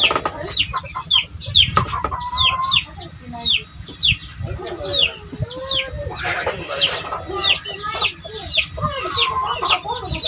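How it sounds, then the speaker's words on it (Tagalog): Many chickens cluck and squawk continuously close by, with scattered rooster-like calls and occasional thumps in the background. "Ito siyam na mga manok mga kasabong."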